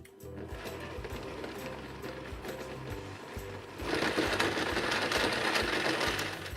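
A Vitamix S30 blender whirs through hemp milk, starting with a lower, rattling motor hum and then ramping up to a louder, steadier high-speed roar partway through.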